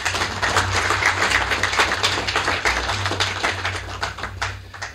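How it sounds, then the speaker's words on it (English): Audience applause welcoming new students and faculty at a university gathering, dense continuous clapping with sharp individual claps over a low hum, steady and loud throughout. "please join me as we welcome them with a round of applause"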